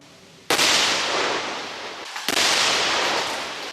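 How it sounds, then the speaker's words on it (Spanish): A military demolition blast destroys an illegal mine entrance in a remote hamlet in Carchi, Ecuador. A sudden loud explosive crack is followed by a long roaring rumble, then a second sharp blast and sustained roar, with no voices. "Esta fue una de las 6 explosiones con las que militares destruyeron bocaminas ilegales en el remoto caserío El Cielito del Cantón Mira, provincia de Carchi"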